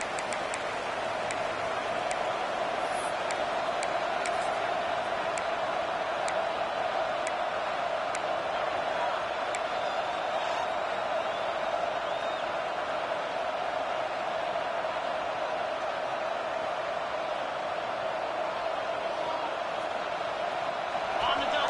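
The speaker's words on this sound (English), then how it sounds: "Listen to this crowd just shaking the girders of this place, trying to help their defense." Steady roar of a stadium crowd in the College Football 26 video game during an LSU game, a constant loud wash of noise with a few faint ticks, running unbroken throughout.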